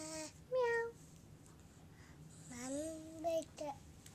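A young child imitates a cat's meow, giving a couple of short high-pitched vocal mewing sounds, close and faint, alongside an adult's voice in a quiet home.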